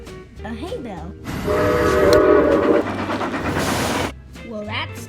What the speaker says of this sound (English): I cannot believe that silly train just kind of woke me up